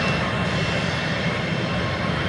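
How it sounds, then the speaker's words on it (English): A business jet engine produces a continuous, loud, broadband roar at an airfield, holding steady throughout with no voices over it. "All of a sudden it's getting busy. We got a business jet"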